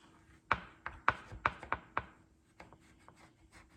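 A knife cuts down through a frozen mocha dessert in a pan, giving a run of about five sharp scraping knocks against the pan bottom, then softer ticks, close and quiet with no talk.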